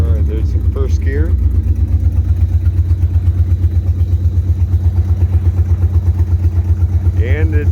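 Car engine fitted with a T56 transmission pulling away in first gear, a loud rhythmic low engine chug running throughout while people speak briefly at the start and end.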